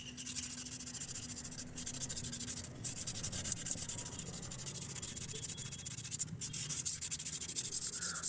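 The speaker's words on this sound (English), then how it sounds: "it's better to wipe all the carbon deposits or dirts which are present in the flywheel by the old clutch plate" An old clutch plate rubs carbon deposits and dirt off the flywheel of a Maruti Suzuki Swift or Ertiga diesel during clutch replacement, a soft, continuous scrubbing and scraping close to the microphone with no talk.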